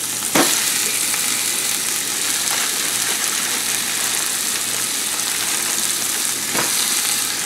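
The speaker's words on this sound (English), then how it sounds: "Take your hamburger, throw it in your pan." Ground beef for chili sizzling and crackling steadily in a hot pan, with a few sharp scrapes of a utensil.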